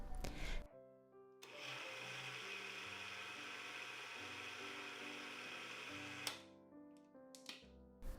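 Blender whirring as it blends butter for brown rice bread, a sustained motor drone with shifting pitch that starts after a short pause, then stops and restarts briefly in short bursts.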